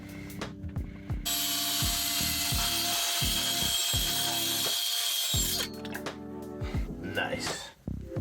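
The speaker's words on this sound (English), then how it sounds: "let's try cutting. See how this works with the, I don't know, what is it, skill saw, circular saw?" A handheld circular saw cuts through interior trim in a long continuous burst that stops and restarts, running loud and close with a bright whine, and scattered clatter follows once it winds down.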